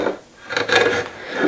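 A rabbet plane shaving a wooden guitar neck tenon, producing close rasping scrapes in a couple of short passes.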